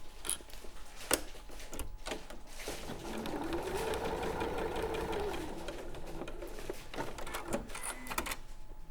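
Sewing machine running steadily for a couple of seconds as it stitches a quarter-inch seam along cushion fabric sashing, a continuous whirring hum between softer handling noises, fairly close and unaccompanied by talk.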